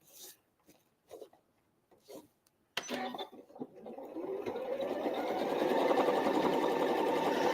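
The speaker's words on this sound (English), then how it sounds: "And I'll sew this last line on." A few light taps and handling clicks give way to a sewing machine stitching a seam on scrap fabric place mats, its steady whirring run building in speed and loudness and holding for several seconds, close and alone.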